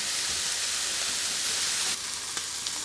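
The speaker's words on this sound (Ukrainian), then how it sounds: "подивіться, як класно смажаться баклажани" Eggplant slices frying with egg in a lightly oiled pan give a steady, close sizzle that fills the whole clip, easing slightly near the end with a couple of small pops.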